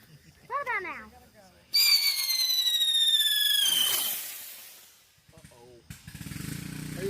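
Saturn missile fireworks at a Fourth of July gathering fire off in a loud, sustained whistling, crackling burst lasting a few seconds, with people talking before and after.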